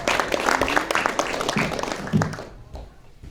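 A stand-up comedy crowd claps and cheers as a comic is introduced, a dense burst that fades out toward the end, with a few voices mixed in.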